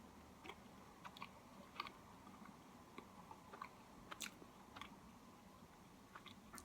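Soft, close crunchy bites and chewing of a homemade vegan three-ingredient cookie made with oats, dates and banana, quiet irregular crunches repeating over several seconds with no talking.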